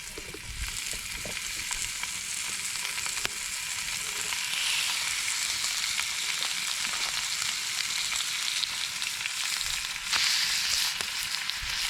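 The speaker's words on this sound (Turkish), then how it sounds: "Şimdi direkt kızgın tavaya koyuyorum. Bunları direkt pişireceğim." Seasoned chicken thigh pieces, rubbed with salt, black pepper and red pepper, sear in a hot pan outdoors, giving a steady, loud, close sizzle with crackling pops that lasts throughout with no voices.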